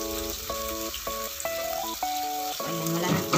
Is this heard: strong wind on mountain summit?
no